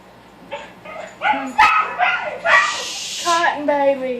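A dog barks repeatedly in short, loud, close bursts inside a house, some of them yipping and whimpering, while people talk nervously over it.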